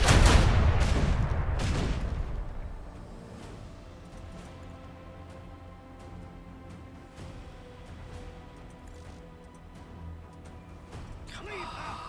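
Ship weapons in the Warhammer 40K Rogue Trader video game fire in a rapid burst of three or four loud booming blasts, followed by rumbling echoes and softer scattered impacts beneath game sound.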